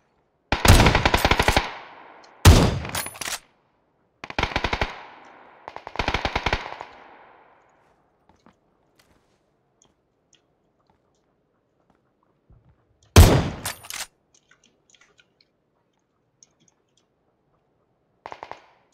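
Tommy gun fire in the PUBG video game: several loud, rapid machine-gun bursts in quick succession, a long quiet gap, then one more burst and a faint final shot.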